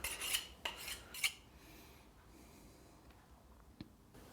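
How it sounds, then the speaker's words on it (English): A skinning knife is drawn flat along a sharpening steel in three quick, close metallic scraping strokes, followed by near quiet with a faint tap. "So you hold it flatter on the steel, like so. You can hear the difference in sound"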